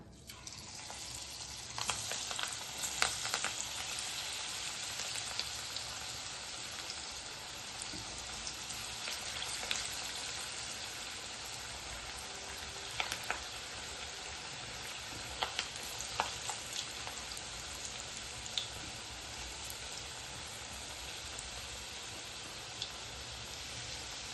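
Chana dal fritters (bhaji) frying in hot oil at home, a steady broadband sizzle running throughout with scattered brief pops and crackles, close and fairly quiet, no voices.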